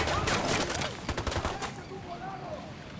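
Rapid bursts of automatic gunfire ring out in the video game Ghost Recon Wildlands, a loud, dense volley that thins into scattered shots, with voices in the mix.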